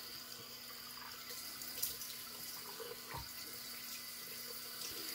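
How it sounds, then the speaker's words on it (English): Steady hiss of a faucet running into a sink, constant and fairly soft, with occasional faint splashes and no voices. "let me rinse my face out with the cold water"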